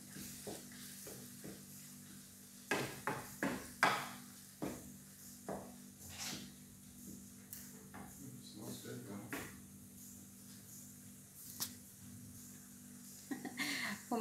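A spoon stirs and mixes salted shepherd's pie filling in a pan in a home kitchen, giving soft, irregular scrapes and clinks over a faint sizzle, with no one talking.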